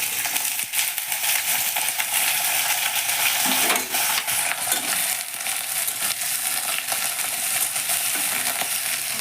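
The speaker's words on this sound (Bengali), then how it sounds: "এবার যে তেলটা থাকবে ওই তেলের মধ্যেই আমি দিয়ে দেব আমার আলুগুলো।" Potatoes sizzle and fry in leftover oil in a pan for a fish chorchori, with steady dense crackling and occasional stirring scrapes throughout, close and continuous with no talk.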